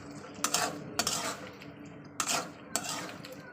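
Thinly sliced potatoes being stir-fried in a pan, a metal spatula scraping and clanking against the cookware in several close, loud strokes with sizzling in between.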